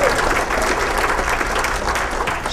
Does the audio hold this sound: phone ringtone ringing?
no